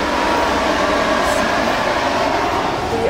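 Sleeper train cabin as the train starts to move, a steady loud rumble of rail noise and wheels filling the space continuously, with a faint rising tone near the end.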